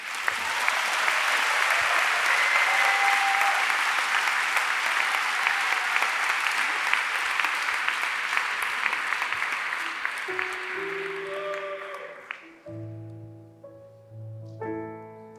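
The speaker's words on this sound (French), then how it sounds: "On peut encore les applaudir." Sustained audience applause for four round-table speakers fills a hall, dense and steady for about twelve seconds before fading, as soft music begins underneath.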